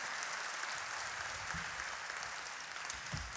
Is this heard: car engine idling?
no